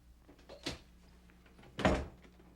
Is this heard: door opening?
yes